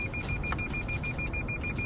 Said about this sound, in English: their Lexus starts beeping out of control